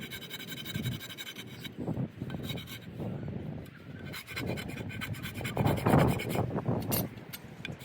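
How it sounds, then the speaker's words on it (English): A Shinto rasp shapes a wooden Comanche bow stave with repeated rough scraping strokes, close and moderately loud, in an uneven back-and-forth rhythm. "I've been using the Shinto rasp."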